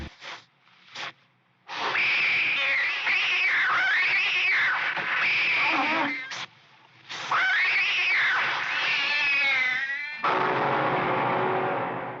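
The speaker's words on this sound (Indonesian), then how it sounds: "kucing itu tengah bertarung dengan ular kobra" Drawn-out yowling and snarling from a cat fighting a cobra, harsh and loud, with short gaps and a final hissing burst.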